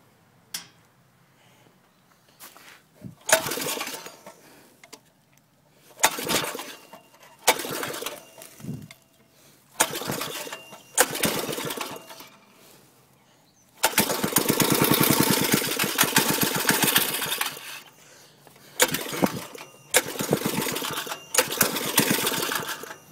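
A Klipper go kart's small engine sputters through repeated start attempts in short bursts, then catches and runs steadily for several seconds before cutting in and out again, close and loud.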